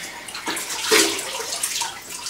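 Horse bridle bit being washed in warm water: continuous close sloshing and splashing with a few louder swishes as it is moved through, no voices.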